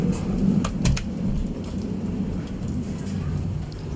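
Steady rain patters close by while thunder rumbles low and heavy underneath, strongest near the start, with no talking.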